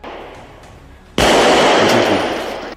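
A single loud gunshot from a sniper rifle in a film, a sharp blast after quiet background followed by a long rolling echo that slowly fades.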